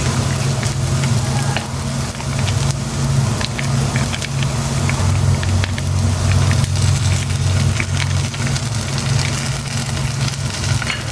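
Tofu sautéing with oyster sauce in a hot pan, a loud steady sizzle and crackle running throughout with a low hum beneath.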